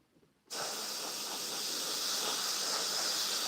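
A steady airy hiss of airbrush paint spraying starts abruptly after a brief quiet moment and continues evenly to the end, loud and close.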